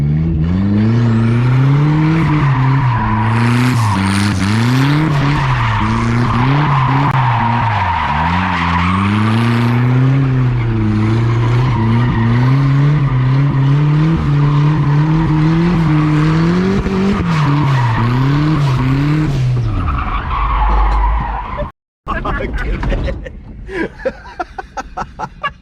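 A turbocharged Nissan Hardbody pickup drifts with its engine revving hard and rising and falling in pitch while the tires spin and squeal, loud and close, with a burst of clatter near the end and voices in the background.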